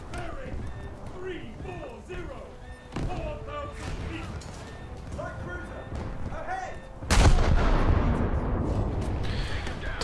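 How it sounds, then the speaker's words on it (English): Heavy booming salvos from a cruiser's guns aimed at the player's ship in a naval warship video game, with sharp thuds standing out near the three- and seven-second marks among rumbling battle noise, while someone talks over it. "it's a cruiser shooting me, isn't it?"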